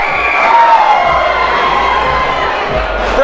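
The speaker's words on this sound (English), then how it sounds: "The crowd's erupting." A wrestling crowd at an indie show cheers and roars loudly and continuously, swelling into an eruption with whistles and shouts, while an announcer's voice talks over the noise.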